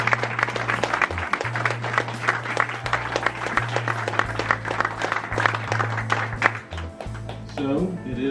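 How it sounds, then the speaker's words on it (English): Audience applause at a short-film festival held at the Mahoning Drive-In Theater, a steady wash of many hands clapping for about eight seconds over a low sustained hum, fading slightly near the end. "All right, one more round of applause."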